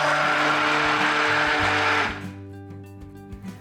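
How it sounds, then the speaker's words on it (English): Stick blender whirring loudly while mixing oils and lye water for homemade soap, a steady buzzing motor for about two seconds before it cuts off and a low hum trails away. "Got my stick blender."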